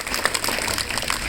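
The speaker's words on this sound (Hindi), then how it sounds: "सूर्य के लिए ताली बजाओ भाई।" Schoolchildren at a government school in Uchana applaud a classmate named Surya, a dense, steady patter of many small hands clapping together for over a second at close range.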